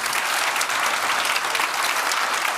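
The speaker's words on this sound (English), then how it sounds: "please give them a round of applause" A conference audience breaks into sustained applause, dense and even clapping from many hands filling the room at a steady loud level throughout, with no voices on top.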